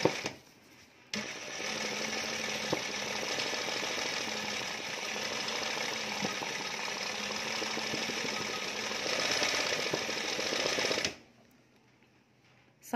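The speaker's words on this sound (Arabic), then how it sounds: "شوفوا معايا الموتور الى نقصنا من السرعه ديالو" Sewing machine motor running at reduced speed, a steady loud whirring hum for about ten seconds that stops abruptly near the end.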